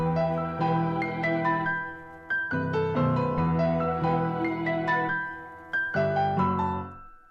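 A gentle piano melody with vinyl-style effects plays single notes and soft chords that ring and decay, unhurried and clear, with no talking.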